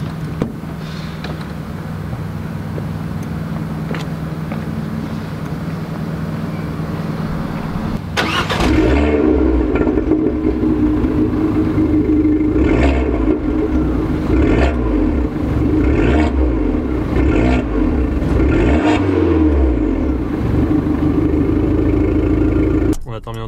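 Fiat 500 Abarth idling quietly, then the engine fires up with a sharp catch partway through, settling into a loud, steady idle punctuated by several short revs.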